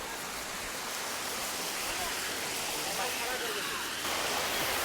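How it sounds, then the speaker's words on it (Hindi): A small waterfall in the Tata Steel Zoological Park in Jamshedpur gives off a steady, close rush of splashing water that carries on without a break. "तो देख सकते हैं यहाँ थोड़ा सा छोटा सा झरना जैसा है।"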